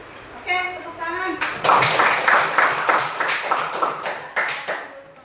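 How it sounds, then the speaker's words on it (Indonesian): A classroom of students claps together after a short spoken cue, a series of sharp, rhythmic bursts of hand clapping that rise and fall in loud, close waves. "Oke, tepuk tangan."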